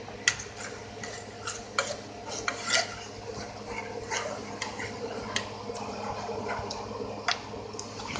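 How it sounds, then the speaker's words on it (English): Roux being stirred into soup in a pot, with a spoon clinking and scraping against the metal in irregular taps over a steady kitchen background hum. "as it heats up, we're going to get it all stirred in here"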